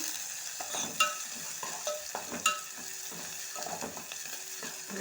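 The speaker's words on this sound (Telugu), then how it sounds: "మొత్తం కలిపేసుకోవాలా ఉల్లిగడ్డలు అయితే మంచిగా కలర్కి వస్తున్నాయండి" Onions with cloves sizzle steadily in a frying pan as a utensil stirs and scrapes through them in irregular strokes, close and moderately loud, with no talking.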